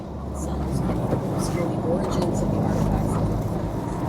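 A diesel car cruises along a smooth country road near Settle in North Yorkshire, giving a steady, even cabin rumble of engine and tyre noise that swells slightly and holds throughout.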